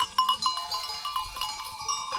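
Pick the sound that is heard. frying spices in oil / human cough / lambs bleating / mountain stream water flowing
lambs bleating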